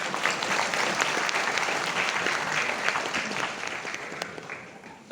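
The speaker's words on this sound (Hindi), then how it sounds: "ये दोबारा से एक जोरदार तालियों से धन्यवाद करते हैं।" A church congregation at a Christmas Day celebration gives steady, dense applause for several seconds, which thins toward the end, with a faint voice underneath.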